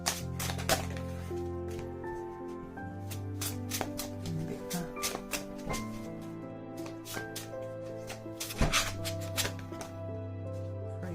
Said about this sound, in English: So let's do a little shuffle and a pull of a card.